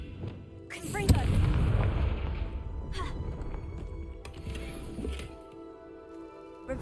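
A Confringo explosive spell blast in the Hogwarts Legacy video game, a sharp booming burst followed by a rumbling decay and a second smaller impact, with a brief voice in the game.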